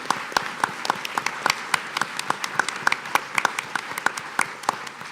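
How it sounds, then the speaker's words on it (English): Round of applause from an audience at a city neighborhood forum, with steady, sharp individual claps from a modest crowd, fairly close and continuous, with no speech over it. "join me in giving them a round of applause as thanks"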